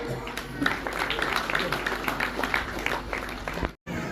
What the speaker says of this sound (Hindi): तालियों से अभिनंदन करें